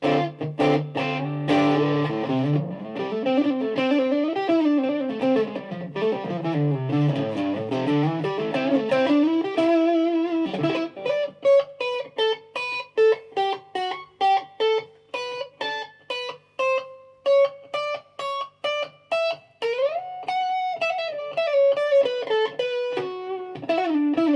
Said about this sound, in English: I'd be tempted to just use it as a distortion pedal